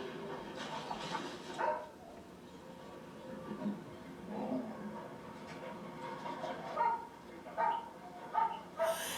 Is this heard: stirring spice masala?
no